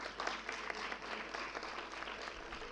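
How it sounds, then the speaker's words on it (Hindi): An audience at a seminar honoring Bhagwan Rishabhdev claps loudly, a dense burst of applause that stays strong and even for a few seconds. "जोरदार तालियों से"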